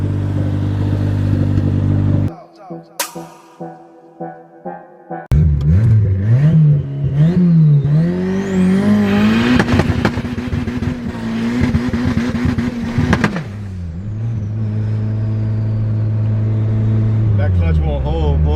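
A built 397 hp D16Y8 Honda Civic EK, freshly fitted with a new head gasket, revs hard on pulls. Loud engine wails climb and fall under shouting voices, with a rattling, clattery idle between the runs.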